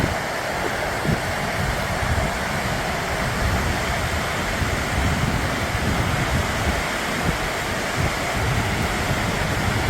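Water pours steadily over a rain-swollen waterfall in John Forrest National Park near Perth, a constant broadband rush heard close and unchanging for ten seconds, with no voices.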